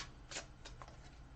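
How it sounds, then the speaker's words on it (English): An oracle card deck is shuffled by hand in a few quick riffling bursts, faint and close, with short pauses between the crisp flutters. "I'm going to shuffle, reshuffle there"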